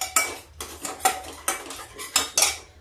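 Masala for broccoli being stirred and fried in a pan, heard as repeated sharp clinks and scrapes of a metal spoon against the pan in an uneven rhythm, close and fairly loud, with no talking.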